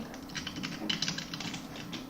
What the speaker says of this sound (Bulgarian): Тъпата клавиатура.